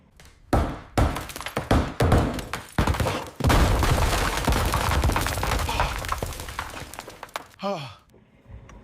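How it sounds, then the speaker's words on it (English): Loud, irregular bangs and thumps come from indoors as pictures are hung on a bedroom wall, a rapid cluster of knocks followed by a longer stretch of clattering, with a brief voice near the end. "If you can hear any banging in the background, Zane's trying to put some pictures up in his room."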